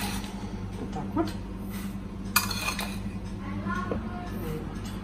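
A spoon scrapes and clinks against a bowl while stirring butter and sugar, with a few sharper taps, under a low steady hum and brief speech.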